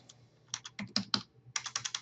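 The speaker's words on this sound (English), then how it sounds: "Using somebody else's keyboard here, it's not helping me out any" Fingers typing on an unfamiliar computer keyboard, close and clear: an irregular run of key clicks, a brief pause, then a quick steady burst of keystrokes.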